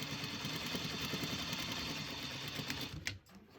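A sewing machine stitches fabric for a fitted face mask, a rapid steady mechanical chatter that runs continuously for a few seconds before stopping with a brief click.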